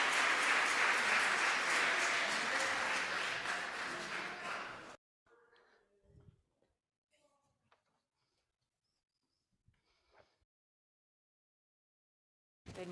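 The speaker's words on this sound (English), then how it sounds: "Now we can all applaud," A church congregation applauds together, a dense, loud wash of clapping that lasts about five seconds and then cuts off, followed by near silence with a few faint shuffles and murmurs.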